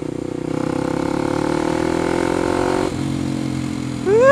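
A 2014 Kawasaki KLX 250 supermoto single-cylinder engine idles and revs up close, a steady throbbing putter that rises in pitch, drops back, then climbs into a sharp rev at the end.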